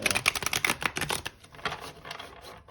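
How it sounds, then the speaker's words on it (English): Rapid papery riffling and light clicking bursts of a tarot card deck being shuffled close by, trailing off into softer shuffles. "I will give the deck a few more shuffles."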